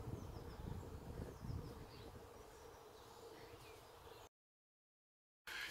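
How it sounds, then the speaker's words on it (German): Faint, dense buzzing of thousands of bees and bumblebees in the open air, a steady hum with light rustling, briefly cutting to silence before resuming. "das müssen abertausende Bienen und Hummeln sein"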